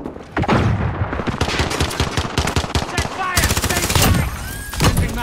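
Heavy gunfire in the Call of Duty: Modern Warfare video game, rapid loud automatic bursts rattling close by almost without pause, mixed with sharp cracks and booms.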